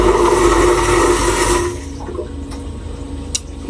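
A freshwater toilet aboard a liveaboard boat flushes with a loud, close rush of water for about a second and a half, then fades to quieter trickling and a few small clicks.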